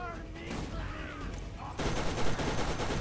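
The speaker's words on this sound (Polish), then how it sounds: "A teraz wejdź do działka i strzelaj." Rapid turret gunfire and explosions in the Borderlands video game crackle in dense, sustained bursts, growing louder and fuller partway through, with some faint game chatter underneath.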